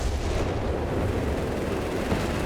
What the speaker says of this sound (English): Second howitzer in operation.